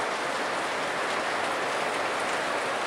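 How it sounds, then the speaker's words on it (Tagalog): Heavy rain pours down in a dense, continuous hiss, steady and fairly close throughout, with no voices. "Sobra lakas ng ulan dito guys"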